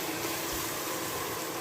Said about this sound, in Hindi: ये टमाटर का जो थोड़ा सा पानी डाल के पेस्ट बनाया था, अभी इसको इसके अंदर डालते हैं